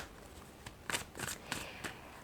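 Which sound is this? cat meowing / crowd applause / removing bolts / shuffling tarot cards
shuffling tarot cards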